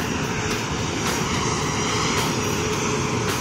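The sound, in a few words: Cardig Air Boeing 737-300F cargo plane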